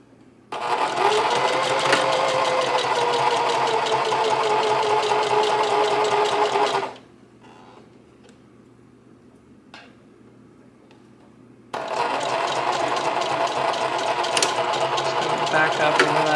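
A sewing machine runs a stretchy zigzag stitch along a baby bootie seam, humming loudly and evenly for several seconds, pausing briefly, then starting again close by.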